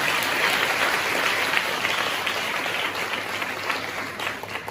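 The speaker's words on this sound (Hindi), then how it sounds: "एक जोरदार ताली बजा के परमेश्वर की महिमा करेंगे" Church of God congregation in Champa, India bursting into steady, loud applause that holds evenly for several seconds, dense and close with no voices over it.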